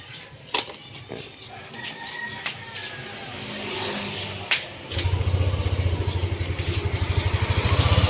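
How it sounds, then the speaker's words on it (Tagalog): A Yamaha Aerox or Nmax scooter engine warming up, starting with scattered clicks and knocks before the motor settles into a steady, close, rhythmic idle for the last few seconds. "Painitin lang natin yung makina."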